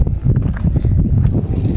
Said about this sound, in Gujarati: જોઈ શકો છો કેટલો ઠંડો પવન આવી રહ્યો છે.